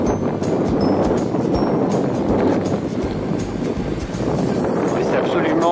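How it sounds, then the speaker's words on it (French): Strong gusting wind on an exposed mountain pass during a bikepacking trip between Perpignan and Lannemezan, a loud continuous roar buffeting the microphone. "Par contre, c'est extrêmement venteux."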